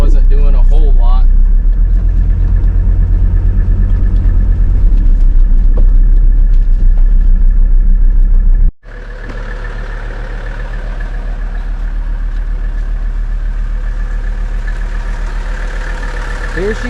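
A 1984 Mercedes-Benz engine with a weak alternator idles steadily with a low, continuous rumble, and a person talks over it throughout; a brief break occurs midway before the idle resumes.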